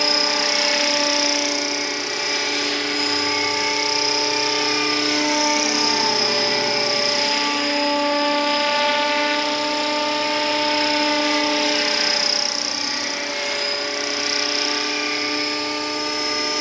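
An RC scale Bell Huey model helicopter in flight on a calm day, a loud, steady high-pitched whine of the motor and rotors that holds close and constant throughout with slight pitch wavering.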